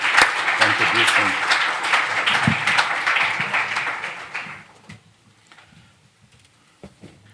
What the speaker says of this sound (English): So please offer a round of applause for the first panel.